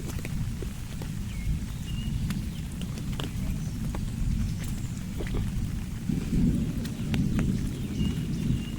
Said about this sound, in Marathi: विजेचा गडगडाट आवाज येता इकडे